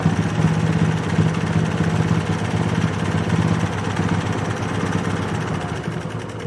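A sewing machine stitching fabric for reusable face wipes runs steadily and closely, making a continuous mechanical whir with a rapid, even chatter throughout, and no voices.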